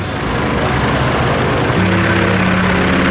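Warplane engine from the World of Warplanes video game roars steadily, a loud continuous drone that thickens partway through with a rising low tonal hum, heard alone without talk.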